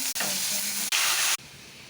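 Onion tempering for dal sizzles hard in a hot pan, in loud bursts of frying hiss broken by two brief pauses, then settles to a quieter, steady sizzle.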